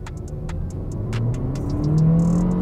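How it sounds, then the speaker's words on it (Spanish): A SsangYong Korando turbo SUV accelerating at full throttle in Sport mode, its engine note rising steadily from inside the cabin, loud and continuous, with faint ticking clicks above it. "Y empieza a acelerar pues progresivamente"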